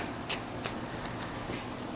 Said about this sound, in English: And I'll just, shuffle the cards, get it all mixed up.